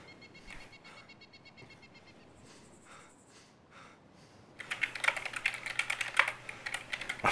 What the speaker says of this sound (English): I'm sorry if you're gonna hear me typing.